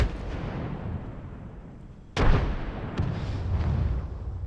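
A frag grenade in Apex Legends goes off in a loud, sudden blast with a second, smaller burst just after, followed by a lingering rumble over steady background game noise.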